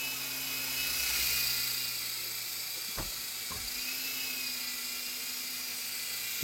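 E-flite Blade mcX RC helicopter hovering indoors, a steady high-pitched electric rotor whine and buzz close by, with two brief clicks partway through.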